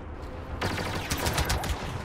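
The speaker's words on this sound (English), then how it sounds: "Laser shot to the face and he didn't die." Rapid bursts of blaster fire crackle in a Star Wars Battlefront firefight, starting after a quiet half second and continuing densely to the end with a low rumble beneath.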